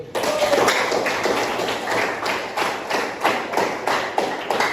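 Classroom audience applauding, a dense burst of many hands clapping at a steady rhythm, close and loud from start to finish.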